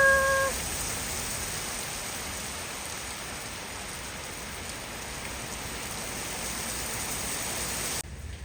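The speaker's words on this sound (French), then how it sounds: "Il pleut, il pleut." Steady rain pours down in a dense, even hiss, close and constant, with no other sounds standing out.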